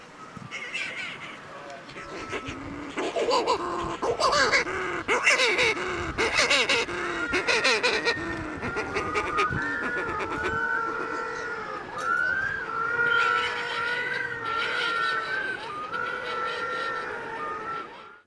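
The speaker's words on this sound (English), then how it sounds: "you can be sure to have a noisy night because of the mutton birds and the penguins." A chorus of mutton birds and penguins calls noisily on an island at night, with harsh, overlapping cries and braying wails rising and falling close by for a long stretch.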